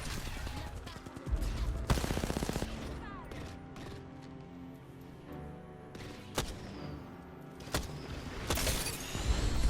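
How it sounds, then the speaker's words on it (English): Gunfire in the battle royale game Apex Legends, rapid bursts and volleys of shots with echoing impacts, loud and dense throughout, mixed with other game sounds and a voice partly underneath. "a random third-party attack from this Ash who fired a few rounds and jumped off"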